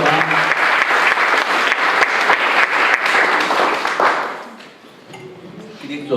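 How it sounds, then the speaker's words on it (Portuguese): Church congregation clapping together during an evening Portuguese-language service, steady rhythmic applause for about four seconds that then fades, with a voice starting up as it dies away. "Você pode aplaudir o nome de Jesus nesta noite"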